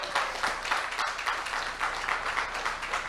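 Church congregation clapping in praise during a sermon, a moderately loud, dense patter of many hands with a steady rhythm and no voices over it.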